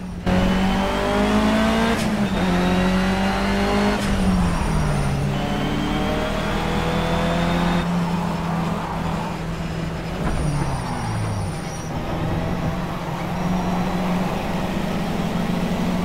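Race car engine in the Project Cars racing game, played with a Logitech G27 wheel, revving hard and climbing through the gears with pitch drops at each shift, loud and continuous throughout.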